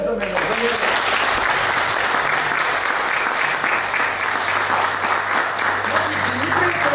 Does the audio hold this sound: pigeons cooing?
no